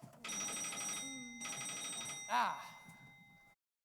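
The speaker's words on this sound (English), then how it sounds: "That'll be the phone." An old-style telephone bell rings at a country house during a murder-mystery stage play, two long bursts of trilling rings with a pause between, close and clear, a voice briefly talking as it ends.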